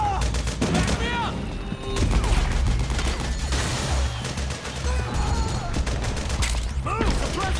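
Gunfire in Metal Gear Solid 4 as soldiers lay down suppressing fire, with continuous loud rattling shots, crashes and mechanical clatter amid shouting voices.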